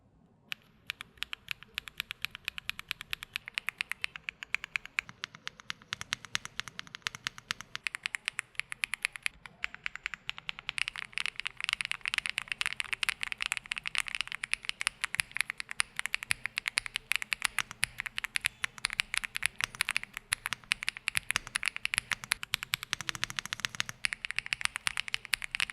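Someone types steadily on a Mechlands Blade 75 gasket-mounted mechanical keyboard with multi-layer acoustic damping, giving dense, even, close clacking keystrokes that build after a slow start and continue without pause.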